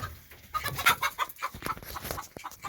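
Several hens cluck and squawk in short bursts close by, a busy, scratchy flock chatter with no voices.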